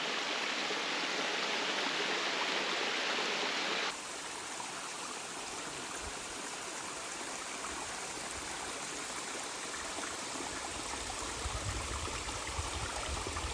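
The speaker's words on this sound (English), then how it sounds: "that is a pretty waterfall" Steady rushing roar of a waterfall on the Alaskan coast, continuous and fairly close, with a broadband hiss that shifts slightly partway through as the perspective changes.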